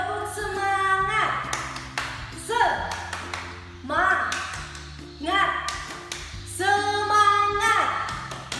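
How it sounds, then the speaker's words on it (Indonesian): Schoolchildren in an Indonesian classroom do a rhythmic spirit clap (tepuk semangat) led by their teacher, with repeated bursts of sharp group claps set against a chanting voice, all fairly close and loud. "Kita tepuk semangat ya."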